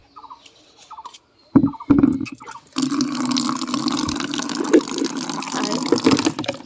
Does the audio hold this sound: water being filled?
yes